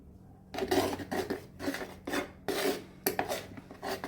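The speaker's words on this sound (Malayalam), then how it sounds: "1/2 സ്പൂൺ ഉപ്പും കൂടെ ചേർത്തിട്ട് നന്നായിട്ട് നമുക്കിതൊന്ന് മിക്സ് ചെയ്യാം." Batter being mixed with salt in a bowl, rhythmic scraping and knocking of a spoon against the bowl in repeated short bursts, close and moderately loud with no talking.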